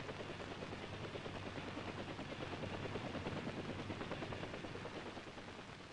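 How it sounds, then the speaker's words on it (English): A UH-1A armed helicopter's rotor chop and turbine drone run loud and steady from start to finish, fading slightly near the end, with no talking. "UH-1A armed helicopter"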